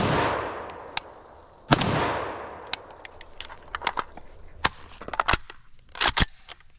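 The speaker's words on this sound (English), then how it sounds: "So I'm going to fire 2 shots unsuppressed, slow fire into the pumpkin" Two sharp, loud unsuppressed rifle shots from an IWI Galil Ace Gen 2 in 5.45 fitted with a Dead Air muzzle brake, fired slowly into a pumpkin, each with a ringing decay, followed by scattered handling clicks.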